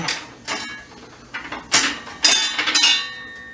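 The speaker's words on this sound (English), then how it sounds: "Then we're going to put our washer back on." A metal washer being slid back onto a table saw's dado blade arbor, a few light metallic clinks and scrapes in quick succession, close and clear with no talk.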